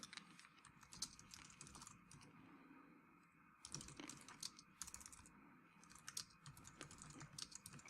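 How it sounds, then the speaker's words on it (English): Fingers type keywords on a computer keyboard in quick, uneven bursts of soft clicks and key taps, close by and fairly quiet, with short pauses between flurries and no speech. "let me just type in a bunch of keywords"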